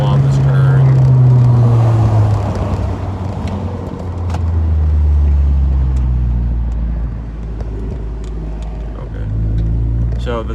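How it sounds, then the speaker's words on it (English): A car rumbles along a highway off ramp at about 60 mph and downshifts to third gear, its engine drone dropping and rising in pitch beneath steady road noise while someone talks. "Gonna downshift to a third."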